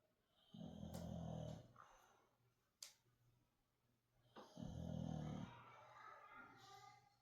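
An elderly boxer dog snores in two long, rumbling breaths a few seconds apart, close but quiet, with a faint click between them.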